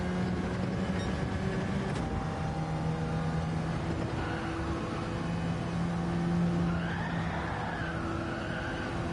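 Race car engine from Gran Turismo 7, a steady loud drone with sustained tonal whine and shifting pitch, rising and sweeping in the later seconds, no talking.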